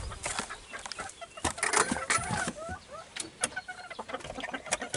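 Chickens cluck as a keeper opens the coop, with scattered close calls. There are rustling and metallic clinks, and no one speaks.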